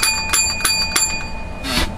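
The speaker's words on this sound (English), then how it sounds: "I love that bell." A bicycle bell rings loud and close, with several sharp metallic dings spaced unevenly and a longer final ring.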